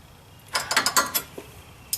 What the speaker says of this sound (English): then I'll work on putting these other bolts in